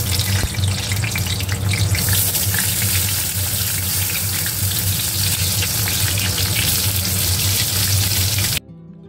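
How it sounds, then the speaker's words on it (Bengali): Eggplant fries in a hot wok, a loud, continuous sizzle and crackle that holds steady before cutting off abruptly near the end. "এখানে কড়াই বসিয়ে দিয়েছি, এখন ভাজবো বেগুন।"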